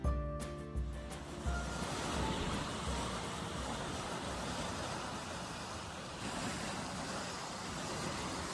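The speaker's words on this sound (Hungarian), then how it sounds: "a vad, erőteljesen a hegyeknek csapódó hullámok, amik folyamatosan mossák és omlasztják Anglia partjait" Ocean waves crash against red cliffs on the English coast in a continuous loud roar of surf, with wind buffeting the microphone.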